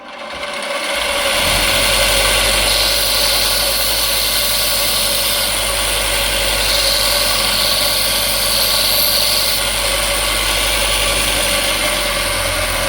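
An inexpensive electric bench sharpener for drill bits and knives spins up and then runs with a steady, close, buzzing motor hum throughout, with no voices.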